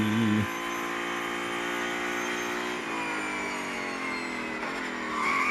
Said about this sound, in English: Even when you skid off like that